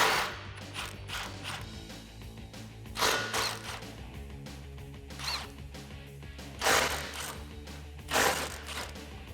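A 15mm socket on a ratchet loosens the exhaust pipe nuts on a 2018-2020 Mustang GT. Close, intermittent clicking ratchet bursts sound against quiet, with no speech.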